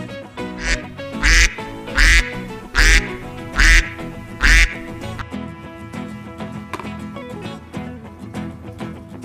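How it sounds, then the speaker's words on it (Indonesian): A duck quacks in a quick run of about five loud, nasal calls, then a few softer, more scattered quacks, with no talk over it. "Ini adalah bebek."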